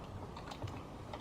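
A brief, quiet burst of typing on a computer keyboard, with soft, close key taps in quick succession and no talk.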